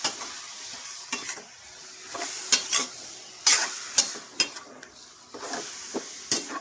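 Pork pata for adobo cooks in a pan, with a soft steady sizzle broken by sharp metallic scrapes and clinks of a utensil stirring against the pan at irregular intervals.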